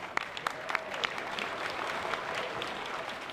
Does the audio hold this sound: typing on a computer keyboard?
no